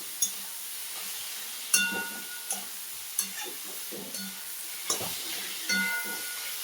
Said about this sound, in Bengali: আমি হলুদ নুন সবে দিয়ে দিয়েছি, দিয়ে বেগুনগুলো কষাচ্ছি